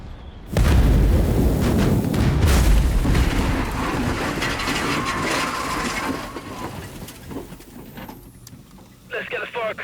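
A petrol station blows up during a 360-degree car jump stunt, a loud booming blast that rolls into a long roaring, rumbling fireball which slowly fades, heard from a distance in the open air.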